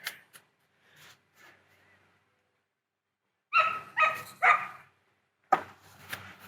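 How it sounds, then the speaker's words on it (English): Several dogs bark nearby in a backyard cornhole setting: a few short early yips and faint whimpers, then a loud cluster of four or five close barks, followed by a couple more sharp barks near the end. "Got some happy dogs nearby, barking a tad."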